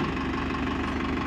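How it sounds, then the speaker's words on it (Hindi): A Farmtrac 6055 tractor engine idling at unchanged speed during a PTO demonstration, giving a steady, close, low-pitched rumble with a faint rhythmic knock throughout. "इंजन की इन्होंने स्पीड नहीं बढ़ाई, ये देखिए"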